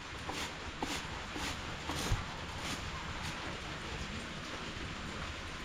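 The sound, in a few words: rain falling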